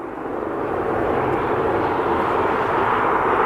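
A Loganair ATR 72-600 turboprop arriving from Dublin at Aberdeen Airport gives a loud, steady engine drone that swells slightly and holds, heard alone with no talk.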